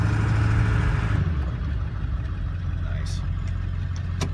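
A 2000 Ford F350 diesel 4x4 truck engine runs with a steady low rumble. A louder stretch at first eases to a quieter, even hum, with a brief spoken word over it.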